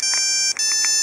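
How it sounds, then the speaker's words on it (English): A custom-composed ringtone on a Nokia 1100 plays a short run of bright, evenly spaced electronic beeps, loud and close, with no other sound. "the composer, you can actually create your own ringtone here."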